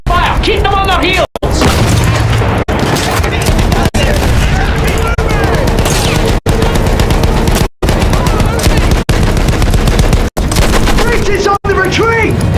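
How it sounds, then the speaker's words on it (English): Suppressing gunfire on a Battlefield 1 battlefield, loud and dense with rapid machine-gun bursts, booms and crashes, interrupted by several abrupt cuts, while shouting voices carry over the fighting. "Continue suppressing fire."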